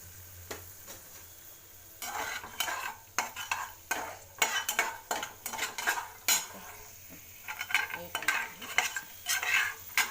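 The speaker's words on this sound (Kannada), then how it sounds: "ಇದನ್ನೆಲ್ಲ ಚೆನ್ನಾಗಿ ಬಾಡಿಸ್ಬೇಕು." Ingredients are sautéed in a pan for upma, with a faint sizzle under repeated clinking, scraping strokes of a metal spoon against the pan, quiet at first and then busy and close.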